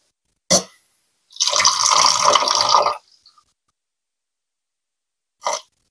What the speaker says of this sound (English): just letting the water run all the way through your sausage